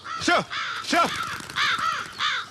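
Several loud, harsh caws from crows, four distinct calls spaced about half a second apart, close by and heard alone without any speech.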